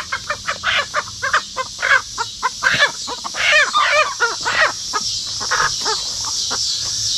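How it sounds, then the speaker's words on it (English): A flock of chickens, including black Ameraucanas, clucking and squawking on a farm in a steady run of short, overlapping calls, fairly close, with a constant hiss in the background. "I love them, but I love Cassie's chickens."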